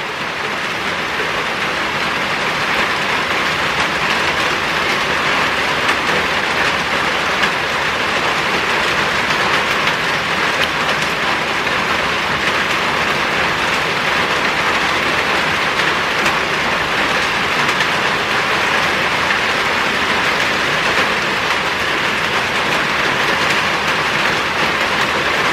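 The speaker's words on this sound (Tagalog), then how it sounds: "Pa rin ang ulan. Narinig ninyo?" Heavy rain on the third day of a storm during a total blackout pours steadily as a dense, even hiss, unbroken and fairly loud for the whole stretch with no voices.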